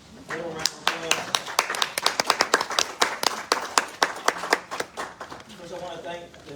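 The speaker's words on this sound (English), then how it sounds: "Give him a round of applause." Attendees at a community meeting on sewage backups clap in a brisk, uneven burst of individual hand claps, fairly close and distinct, with voices between them.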